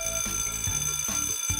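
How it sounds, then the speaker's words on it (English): A school bell signalling the next class gives a short, bright electronic alarm-like chime that is loud and continuous, with no speech. "You heard the bell. That means we have to go to our next class."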